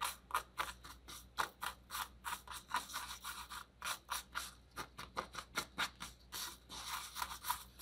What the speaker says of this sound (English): I'm just going to use a popsicle stick and just mix this all around